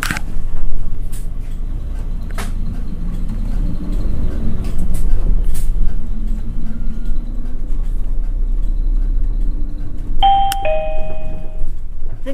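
Inside a Dōnan Bus city bus in Muroran, Japan, the engine rumbles low and steady as the bus pulls away and drives on, with a bright two-tone chime ringing near the end.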